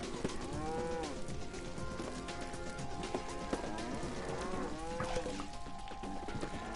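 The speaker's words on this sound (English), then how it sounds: "now we have too many cows" Many cows moo over and over in the video game LittleBigPlanet 3, overlapping drawn-out calls that sound close and crowded, with faint clip-clop and game noise beneath.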